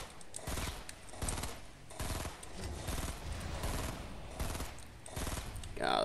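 Rapid rifle fire in Fortnite, repeated loud bursts of shots in quick succession across the whole stretch, dense and near, over busy game background sound.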